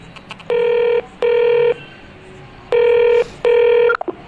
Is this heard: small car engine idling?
no